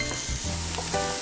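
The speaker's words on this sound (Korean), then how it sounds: "달군 팬에 식용유를 두르고 다진 양파, 마늘, 간 소고기 등을 넣고 볶는다." Chopped onion, garlic and ground beef fry in an oiled, preheated pan, a steady loud sizzle with dense crackle throughout, close up and without talk.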